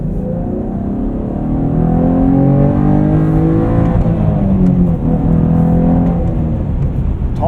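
A 2023 Chevrolet Camaro 1LT with a 3.6L V6 and manual gearbox drives along, the engine note droning loudly from inside the cabin and climbing steadily in pitch as it revs, then easing slightly.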